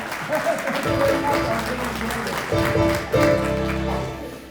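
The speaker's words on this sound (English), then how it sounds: "let's give a big round of applause for Ron" Applause at a New Year's levee honouring a retiree, a steady crowd clapping that swells, dips briefly and surges again, with voices talking through it.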